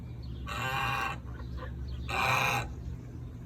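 Peacocks calling outdoors at a seed farm with gardens, two loud drawn-out wailing cries about a second apart, fairly close, with quieter calls in between and no talk.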